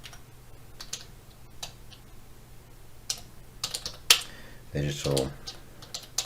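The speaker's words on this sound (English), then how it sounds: "So if they go to YouTube, and" Keys on a computer keyboard clatter as a search for digital marketing in Exeter is typed. Close, crisp keystrokes come in scattered bursts and then a quick run, with someone speaking briefly over them.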